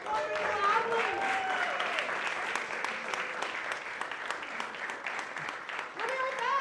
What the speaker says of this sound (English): So give me another round of applause for our wonderful athletes.